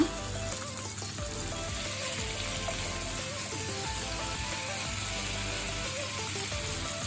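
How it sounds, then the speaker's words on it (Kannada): Mackerel coated in masala fries in a pan over medium flame with a steady close sizzle, accompanied throughout by soft tonal background sounds. "ಒಂದು ಸೈಡ್ ಮೀನು ಫ್ರೈ ಆಗಿದೆ. ಈಗ ನಿಧಾನಕ್ಕೆ ಇದನ್ನು ತಿರುಗಿಸಿ ಹಾಕೋಣ."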